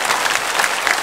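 A church congregation at a Sunday worship service claps to welcome new members, a brief, dense burst of applause at full strength from start to finish.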